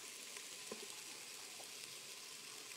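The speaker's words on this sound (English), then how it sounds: "Can you hear that sizzling?" Vegetables sizzle in a Fagor multicooker seasoned with Aleppo chili, a faint, steady frying hiss with a few small pops.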